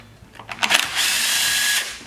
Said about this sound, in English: Get your T27 Torx. Start removing